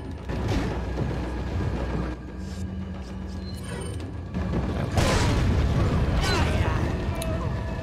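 A grenade blowing up in Resident Evil 4, a deep booming blast near five seconds that swells over the steady game soundscape after an earlier rumble, with voices heard in the mix.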